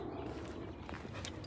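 A dog makes brief soft yips and whimpers outdoors during a walk, faint and low against steady background noise, with no talking.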